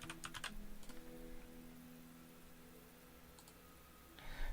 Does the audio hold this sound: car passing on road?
no